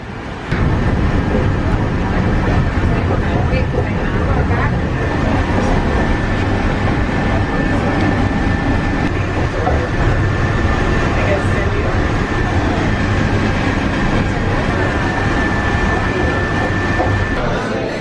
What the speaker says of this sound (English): We are getting on the monorail and heading to brunch.